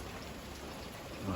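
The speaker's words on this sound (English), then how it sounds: "It's raining steady today." Steady rain falling outdoors, a soft continuous hiss of drops on surfaces, even and fairly faint throughout, with no voices.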